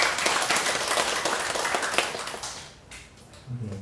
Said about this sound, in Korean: 우리 찬양대원에 위해서 경의의 박수 한번 합시다